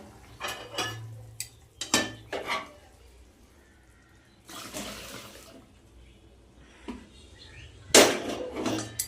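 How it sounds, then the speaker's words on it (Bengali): A metal wok clanks down onto a kitchen stove among several sharp knocks and scrapes of cookware, scattered clatters spaced apart with a brief running-water rush between. "কড়াইটা বসিয়ে দিলাম"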